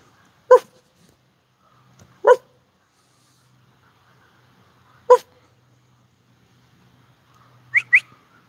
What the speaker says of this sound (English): So this is where somebody was giving me some good barking.